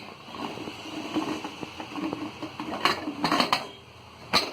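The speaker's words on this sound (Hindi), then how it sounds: "और हम कुकर का ढक्कन लगा देंगे।" Metal clanks and scrapes of a pressure cooker lid being set and locked in place over dal, with a few sharp clinks toward the end, close by.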